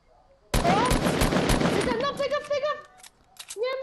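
Automatic gunfire in the Fortnite video game, a dense loud burst of rapid shots that tails off into scattered pops, with excited voices talking over it.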